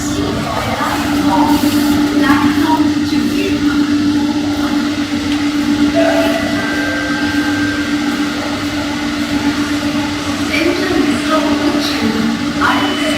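A Chennai Metro train runs between stations on the CMBT to Chennai Central line, giving a steady, continuous droning hum and rumble from inside the carriage. The sound holds at an even level throughout, with faint intermittent background noises.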